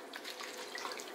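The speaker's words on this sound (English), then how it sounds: "You're gonna put it upside down, and you're gonna swirl it." Water gushes steadily out of an upside-down, swirled bottle in a soft, continuous splashing and gurgling pour, faint and without speech.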